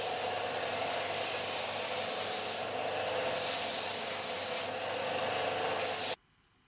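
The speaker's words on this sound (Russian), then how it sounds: "Затем обтачиваю на своем маленьком шлифовальном станке для получения ровных лекал." A small bench sanding machine shapes plywood templates for a homemade upholstered bed, giving a steady, loud abrasive whir and rub that runs continuously, briefly dips in tone, then cuts off abruptly near the end.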